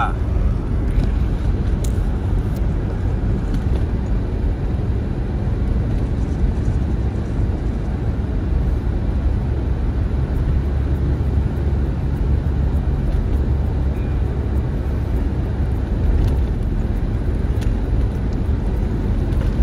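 A 4x4 in 4H drives steadily on a road trip from Ushuaia toward Alaska, its engine and road noise forming a loud, continuous low rumble with no break throughout.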